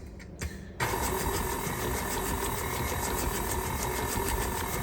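A KitchenAid stand mixer runs at a low speed, mixing Coke cake batter with a steady, even motor whir that starts abruptly after a brief pause and continues alone.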